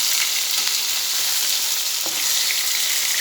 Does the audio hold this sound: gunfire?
no